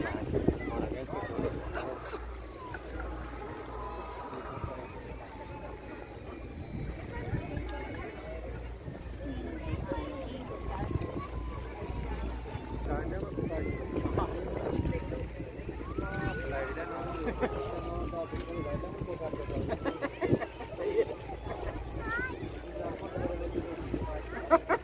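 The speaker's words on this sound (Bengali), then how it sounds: "অনেক বাতাস, শুশু শব্দ হচ্ছে।" Strong outdoor wind buffets the microphone at a seaside promenade during a national day air show, a constant rumbling low roar with people talking through it.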